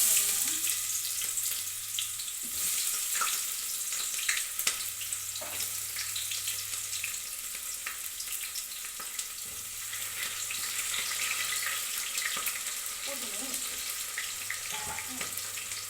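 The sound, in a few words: onions frying in oil for egg biryani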